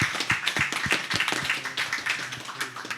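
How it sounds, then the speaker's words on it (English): Scattered clapping from a small group at a panel discussion, quick uneven claps close by without a clear steady rhythm, no one speaking. "everybody, again, a round of applause for everyone here assembled"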